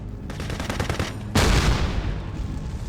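Machine gun fire in the video game Ghost Recon Advanced Warfighter: a rapid rattling burst of individual shots, then a louder, heavier blast of fire that fades into a rumbling tail.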